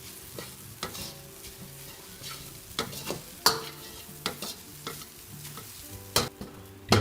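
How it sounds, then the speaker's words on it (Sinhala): String hoppers kottu is stirred in a pan, with a spatula scraping and tapping the metal in irregular strokes over a soft sizzle, close and clear with no talk. "දැන් ඉන්දියාප්ප ටික හොඳින් කලවම් කරගන්න"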